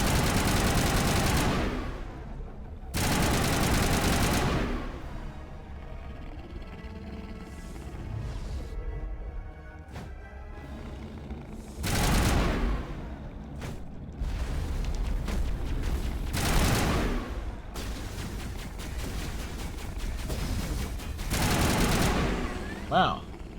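Heavy gunfire from Mass Effect Legendary Edition combat, loud bursts of automatic fire and blasts that come in several dense waves with quieter gaps between them, sometimes under a player's talk.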